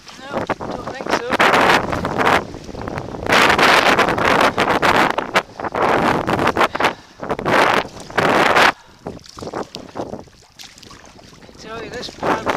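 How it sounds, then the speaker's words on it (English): Strong wind gusts roar and buffet the microphone during a sea kayak tour from Broadford to Portree on the Isle of Skye, coming in loud surging bursts with short lulls between them. "Gusts are hellish."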